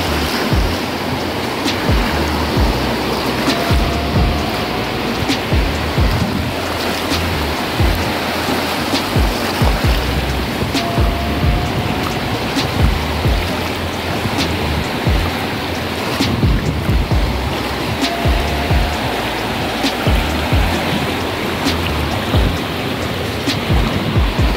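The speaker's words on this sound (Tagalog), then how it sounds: "Laki ng alon." Big sea waves crash and roll continuously along a dirty, debris-strewn shore, a loud steady roar of surf with repeated breaking surges and no talking.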